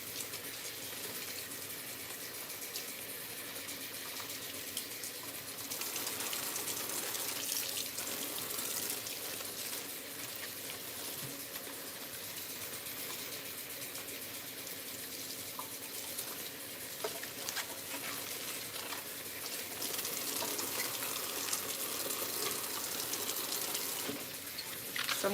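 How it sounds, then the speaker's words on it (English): Tap water runs steadily over collard greens being rinsed in a sink, a continuous close splashing gush with small shifts in flow and no talking. "So I'm just about to finish rinsing this"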